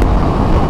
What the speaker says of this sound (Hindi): भाई आर्मी की गाड़ी है